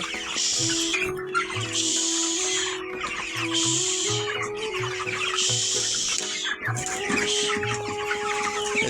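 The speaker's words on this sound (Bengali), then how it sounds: "এইভাবে কিন্তু মুরগিগুলোকে একটু নাড়াচাড়া করে দিতে হবে" Broiler chickens cluck in a steady, busy chorus of overlapping calls, loud and close, with no talking.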